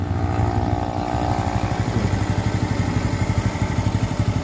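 A Honda XRM 125 motorcycle that has sat unused for years idles steadily after being restarted, its loud, close engine putting out an even, rapid low-pitched putter with a few slight rises in revs.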